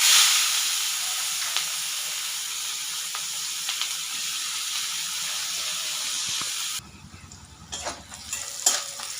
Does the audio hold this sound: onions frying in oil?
yes